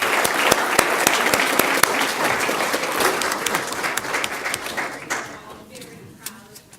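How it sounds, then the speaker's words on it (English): Applause at a school governing board meeting, a burst of many hands clapping with some sharp nearby claps that gradually thins and fades out over several seconds. "give them a big round of applause for supporting her"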